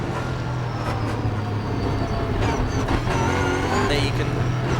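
Race car engine in a Blancpain Sprint Series GT race at Slovakia, driven on the throttle after contact, a steady loud drone with harmonic whine rising near the end, with a commentator talking over it.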